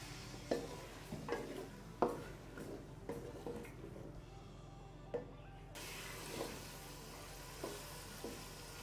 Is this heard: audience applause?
no